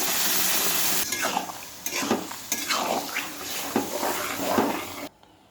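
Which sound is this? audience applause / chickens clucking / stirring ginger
stirring ginger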